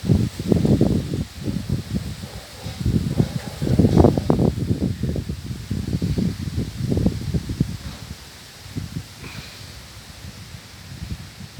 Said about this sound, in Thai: ลมตะวันออกเริ่มมาอีกครั้งหนึ่งนะครับ